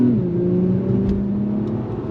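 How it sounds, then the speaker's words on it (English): The engine of a 2024 Acura TLX Type S sedan hums steadily from inside the cabin, with a quick pitch change at the start as the automatic transmission downshifts and blips the throttle, then settles into a smooth, even drone. "when you downshift, it almost like blips the throttle"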